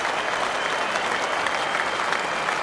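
Cricket crowd at Lord's applauding a century, dense sustained clapping from a large stadium audience, steady and even throughout.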